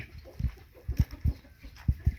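Game chickens kept for fighting on a Thai farm make short, low clucks and calls in an irregular rhythm, fairly close, with no talking.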